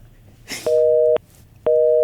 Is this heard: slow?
no